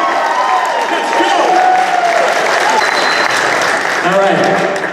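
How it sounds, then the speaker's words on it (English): Audience applauding William Forsythe at a reunion event for the film Gotti, sustained loud clapping and crowd noise with cheering and voices calling out over it. "Let's give her a big round of applause for William Forsythe."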